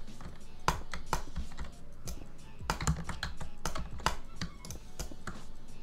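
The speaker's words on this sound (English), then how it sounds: "So yeah, that's how you double click." Rapid mouse clicks from a Logitech mouse being double clicked, a dense run of sharp, close clicks in irregular bursts with no talking.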